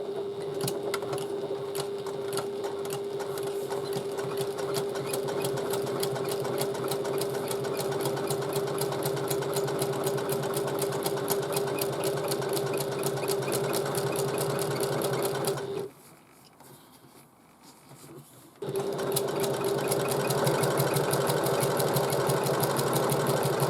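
Sewing machine running a steady, continuous top stitch along an opened seam on a bag, with a slightly longer stitch length; close and even, pausing briefly near the end before resuming.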